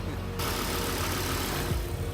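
A Volvo 850 R's engine idles steadily and close by, a low rumble that holds throughout with a faint shift near the end.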